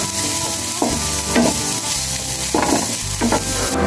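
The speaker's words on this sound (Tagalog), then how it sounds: "Ngayon ay mag-uumpisa na tayong maggisa ng luya." Ginger and garlic sauté in a hot pan with a steady, loud sizzle, broken by a few stirring scrapes and knocks of a utensil against the pan. No one speaks.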